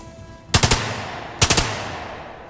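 Video game gunfire from Lamplighters League: two quick bursts of three rapid shots each, about a second apart, loud and sharp with short decaying tails and no talk over them.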